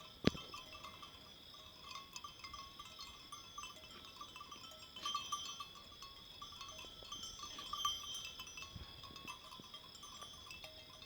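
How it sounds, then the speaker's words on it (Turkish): Sheep grazing on a quiet night pasture, with faint livestock bells clinking now and then over a steady hiss of insects and distant background noise, no talking. "Zaten konuşurken de gelir çan sesi arkadaşlar."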